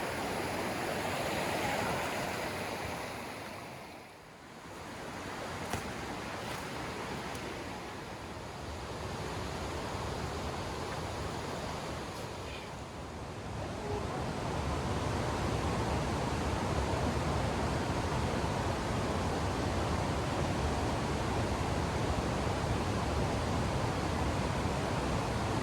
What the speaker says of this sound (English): So today is all about the waterfall and this beautiful river.